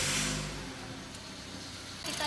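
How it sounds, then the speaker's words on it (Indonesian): Car engine starting and idling during a 20,000 km periodic service check, a rough burst at the start settling into a faint, steady hum. "Sebelumnya kita start engine."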